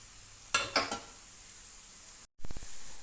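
Cooked green gram, boiled with salt, tipped into a pan of banana flower thoran and stirred in, giving a few scraping stirs and a soft sizzle followed by a brief clatter of pan contact.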